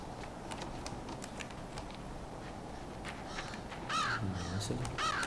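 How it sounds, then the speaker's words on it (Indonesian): Crows caw several times in the video game Limbo, a few short harsh calls rising over a dark ambient hum toward the end. "Ada burung gagak."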